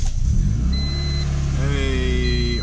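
A Honda Civic EF with a swapped VTEC motor runs nearby and revs up briefly, the pitch climbing and holding toward the end, with a voice speaking over it.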